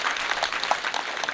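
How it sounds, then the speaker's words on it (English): Audience applause at a school PTA annual general meeting, heard as a close, steady patter of many people clapping together without pause. "I request you clap for this man"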